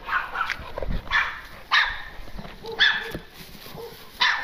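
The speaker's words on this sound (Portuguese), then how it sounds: "Põe seus cachorros pra dentro" Several sharp dog barks come in bursts about a second apart, fairly close, with a quieter yip or whimper between them.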